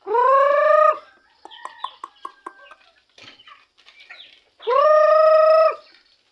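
A rooster crows loudly twice, bracketing a run of short clucks and squawks from nearby chickens in between.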